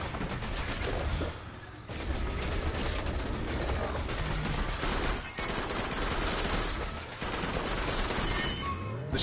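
A plasma rifle firing in the VR shooter Farpoint, a loud, sustained barrage of rapid energy shots with brief pauses between bursts.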